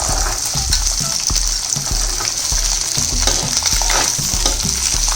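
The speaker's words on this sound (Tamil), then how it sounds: "வெங்காயத்தையும் போட்டுக்கோங்க." Onions go into hot oil with garlic for a curry leaf thokku, frying with a loud, dense, continuous sizzle while a spoon stirs and taps the pan in quick, irregular strokes, no voices.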